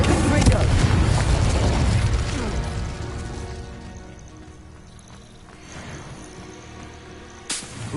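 A booming Confringo explosive spell blast in the Hogwarts Legacy video game, loud and heavy at first, then fading into a long rumbling tail with a small sharp burst near the end.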